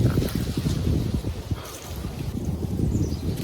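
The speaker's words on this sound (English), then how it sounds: "wind's blowing" Wind blowing steadily outdoors on a mild thawing day, a continuous rough rumble buffeting the microphone, with faint talk underneath.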